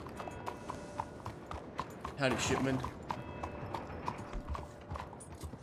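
Horse hooves clip-clop in a steady rhythm in a Western roleplay video game, running continuously under a voice, with a brief rattling mechanical sound in the middle.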